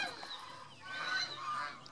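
Several swan geese honk in short nasal calls at a goose farm, fairly faint and slightly distant, overlapping in a loose irregular chorus with no speech.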